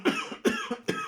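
A man coughs in a jail cell across the way, three separate close coughing bursts in about a second, each dropping off quickly with no talking.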